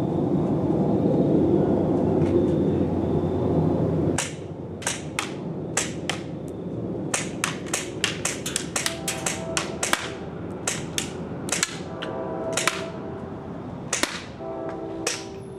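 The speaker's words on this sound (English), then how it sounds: "now we're gonna do shooting test at 30 feet. Put 2 bottles up" A Combat Zone Enforcer gun fires at two bottles set 30 feet away. A steady low hum is followed by a long run of sharp, snappy shots, fired singly and in quick bursts, with faint clacks between them.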